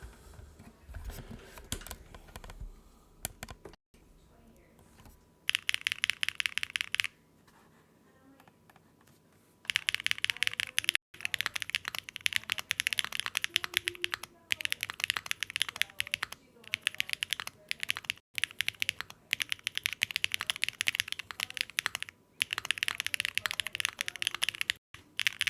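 Typing on a custom Neo 60 core keyboard with a carbon fiber plate, no foam, Key Geek cheesecake switches and GMK keycaps: close, rapid clacky keystrokes in bursts with short pauses, and a voice talking faintly at times.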